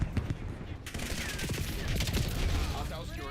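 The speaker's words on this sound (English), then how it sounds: "I've never ever used a burst SMG before." Rapid bursts of burst-fire SMG shots in Black Ops 7, a dense stream of close, sharp reports layered with other game sounds and effects.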